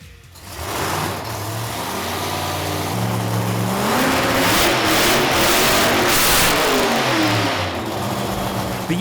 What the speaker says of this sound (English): let's fire this race car up.